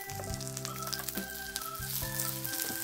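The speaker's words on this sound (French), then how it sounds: "When you cook carrots in oil" Carrots sautéing in oil in a dorm-kitchen stir fry, a soft steady sizzle with a few light tosses, heard faintly under musical tones.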